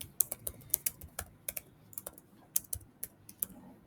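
Typing C code on a computer keyboard, a quick irregular run of sharp, close key clicks with brief pauses, alone and with no talking.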